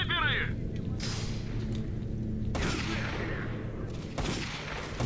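Sniper gunfire in S.T.A.L.K.E.R. Call of Pripyat, a few sharp shots cracking out at roughly one-to-two-second intervals over a steady low game ambience, with a brief voice early on.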